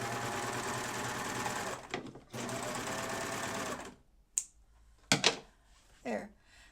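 A serger sews a narrow cover stitch on an apron, running in a steady continuous whir for about two seconds at a time with short pauses, then stopping, followed by a few faint clicks and handling sounds.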